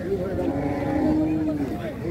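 A large, good-breed heifer at a Rajshahi city cattle market gives one long, steady low moo, close and loud, with a faint hum of market noise beneath.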